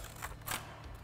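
A couple of short, crisp snips as scissors cut slits into paper, used as a template for shaping tile, close by and quiet.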